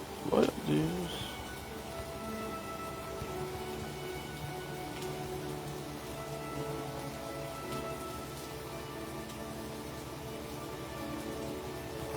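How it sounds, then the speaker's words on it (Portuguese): Heavy rain falls as a steady, dense hiss that holds at an even level throughout, with a short burst of a nearby voice near the beginning. "Olha como está essa chuva."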